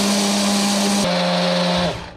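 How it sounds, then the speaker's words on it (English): A blender runs loudly while grinding seeds for a banana milkshake, its motor whine holding steady, shifting pitch midway, then winding down at the end. "first we grind the seeds separately"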